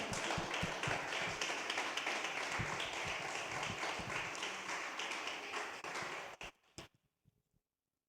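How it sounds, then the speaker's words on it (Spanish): A church congregation applauds in dense, continuous clapping that stays fairly faint and even, then breaks off into a few scattered claps and silence. "Dele un aplauso al Señor."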